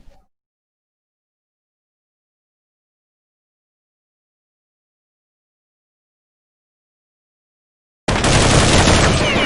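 Rapid gunfire from the Counter-Strike video game bursts in loud and dense near the end, after a long stretch of near silence.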